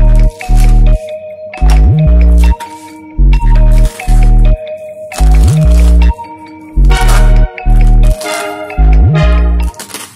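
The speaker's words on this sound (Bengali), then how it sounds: "আমি গাদাল পাতাগুলোকে খুব ভালো করে জিরি করে কুচি করে নেব আর কাঁচা লঙ্কাটাও কুচিয়ে নেব" Gadal leaves and green chilli being finely chopped with a knife on a board, a fast run of loud rhythmic chopping bursts in several quick batches with short pauses between them.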